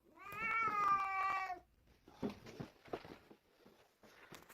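A cat sitting in the way on a staircase gives one long, loud, drawn-out meow up close, followed by softer scuffles and faint noises.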